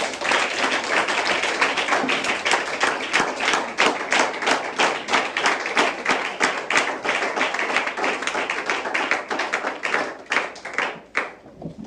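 A church congregation claps and cheers for Jesus, dense rhythmic applause filling the room at steady intensity before tapering off near the end.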